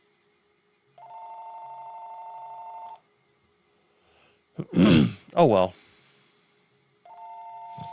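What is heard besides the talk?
telephone ringing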